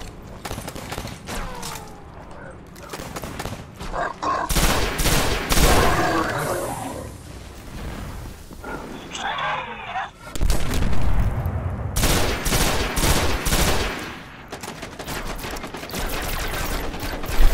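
Bursts of gunfire in the game Destiny come in loud, close volleys separated by brief quieter stretches, with sharp cracks and deep booms, plus a faint voice-like chatter in the lulls.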